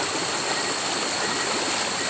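A river stream flows in a continuous, even rush of water. It sounds close and fairly loud, with no voices over it.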